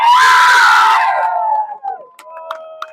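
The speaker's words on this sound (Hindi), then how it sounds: "जोरदार तालियां।" At a village volleyball event, a crowd lets out loud cheering and screaming that starts at full strength, then fades over a couple of seconds, leaving a few scattered shouts and tones.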